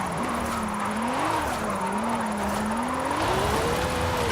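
A Lamborghini drifting in the racing game Forza Horizon 5, its engine holding a loud steady drone that rises and falls through the slide, continuous and close for the full stretch.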